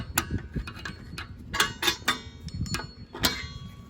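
A flathead screwdriver turns the parking brake adjuster sprocket on a 1996 Jeep Grand Cherokee, making a close, irregular run of sharp metallic clicks and ticks with short pauses between them.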